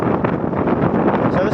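Steady wind buffets an outdoor microphone, a broad rough rumble that runs loud and unbroken throughout.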